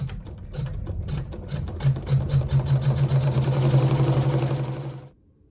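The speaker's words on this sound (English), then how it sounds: "I'll use my neutral thread to sew a seam" A sewing machine stitches a seam through quilt fabric with neutral thread, a fast close mechanical whir with rapid needle ticks that speeds up, runs steadily, then stops abruptly near the end.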